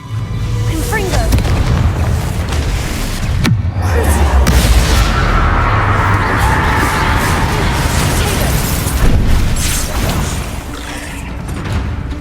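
Confringo fire-blast spell in Hogwarts Legacy, a loud booming explosion with crackling, rumbling debris amid continuous heavy game combat noise and a shouted voice.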